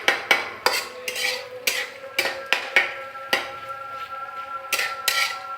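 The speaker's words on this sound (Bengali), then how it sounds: "নাড়া দিতে থাকবেন।" Radish greens frying in a pan, stirred with a utensil that knocks and scrapes against the metal in a series of sharp, irregular clacks over a faint sizzle.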